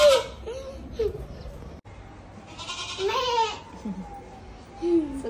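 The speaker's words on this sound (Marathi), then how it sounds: "सो गाईज फायनली बकरा आलेला आहे।" A goat bleats several times nearby, wavering cries spaced out over a few seconds with some background noise between them.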